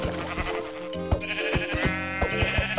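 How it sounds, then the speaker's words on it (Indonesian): Sheep bleat loudly and repeatedly in Minecraft, several close overlapping calls mixed with game sounds such as footsteps and hits, and no talking. "sembari kita jalan tadi ketemu ini domba"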